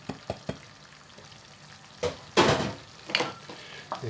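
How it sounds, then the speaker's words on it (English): Curry sauce with coconut softening in hot oil, stirred in short bursts: a few light scrapes, then two louder sizzling swirls of the pan, otherwise fairly quiet. "give that a good stir"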